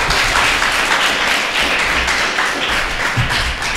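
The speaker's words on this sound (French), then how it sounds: "On l'applaudit bien fort" Steady, dense audience applause fills the room at a charity auction comedy show, a loud continuous wash of many hands clapping with no talk over it.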